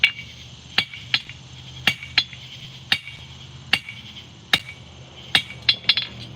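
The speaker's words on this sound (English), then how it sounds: "we are going to start by tapering this bit of rebar" Blacksmith hammering a piece of rebar to taper it at a forge: sharp metallic ringing strikes in an irregular rhythm, some in quick pairs, close and clear over low background hum, with no talking.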